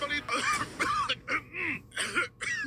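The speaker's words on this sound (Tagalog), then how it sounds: "Laban sa dry non-stop ubo, kati sa lalamunan due to post-nasal drip at sakit sa kakaubo." Repeated coughs and throat clearing in a cough medicine radio advertisement for dry non-stop cough, several close bursts separated by short gaps, loud and clear.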